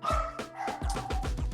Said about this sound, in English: Excuse my dog, sorry.